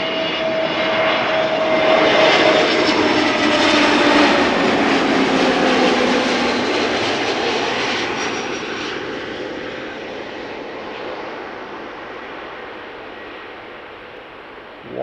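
An Airbus A321neo jet arriving at Amsterdam Schiphol from Reykjavik, its loud engine roar building to a peak in the first few seconds, then slowly fading away as the aircraft passes.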